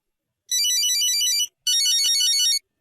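A mobile phone ringtone plays two bursts of bright, repeating electronic tones with a short gap between them, loud and clear on its own.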